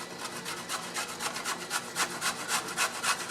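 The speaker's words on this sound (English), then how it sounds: "it works very well for grating your vegetable" Bottle gourd, a slippery vegetable, dragged across a handheld vegetable grater in steady back-and-forth strokes, a close, even rasping rhythm with no voices.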